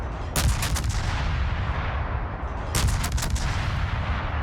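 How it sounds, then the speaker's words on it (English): Heavy warship main guns boom in two loud, broad salvos during naval battle gameplay against a North Carolina battleship, each blast rolling into a long rumbling tail over steady engine and ambient noise. "Love the sound of the guns, by the way."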